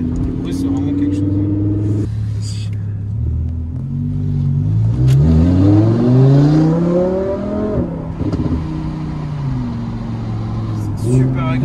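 An Audi R8 engine revs and accelerates loudly and close, its rising harmonic tones sweeping upward through several pulls, with a voice speaking over parts of the sound.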